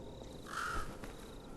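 A single harsh caw from a weird-looking green bird in the video game Lies of P rises briefly above a low, steady ambient hum.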